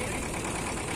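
A motor boat's engine drones steadily as the boat runs near the bank of the monsoon-swollen Matla river in the Sundarbans, an even, close mechanical hum with no voices.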